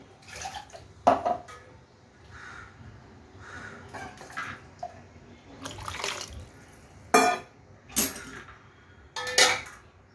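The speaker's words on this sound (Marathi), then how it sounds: "हे भांडं वगैरे धुवून घेते" Water splashes and swishes in bursts as a metal pot is rinsed, with clanks and scraping between the louder sloshes.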